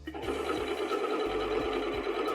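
A sewing machine stitches an understitch along a bodycon dress, running steadily and close with a continuous motor whir and rhythmic needle thumps throughout, no voices over it.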